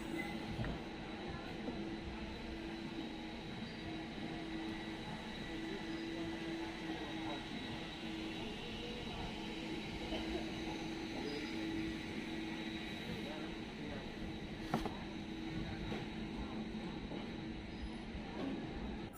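Passenger train running steadily on the line after departing Katihar Junction toward Purnia in Bihar, a continuous rumbling roll with rail noise and a brief clank near the end, heard from inside the carriage.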